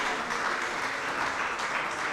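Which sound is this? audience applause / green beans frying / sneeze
audience applause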